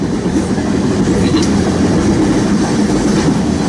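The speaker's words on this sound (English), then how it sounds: "Listen to the sweet sound of coal going by." A loaded coal train rolls past near Fremont and Ashland, Nebraska, with rapid-discharge hoppers letting coal fall onto the rail, a loud, steady rumbling roar of wheels and cascading coal.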